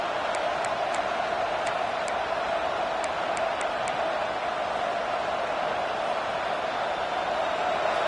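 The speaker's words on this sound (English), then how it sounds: "This crowd bringing the energy and noise early." Football stadium crowd noise early in a game, a dense, steady roar of many voices filling the space at constant loudness, with a few faint high whistles near the start.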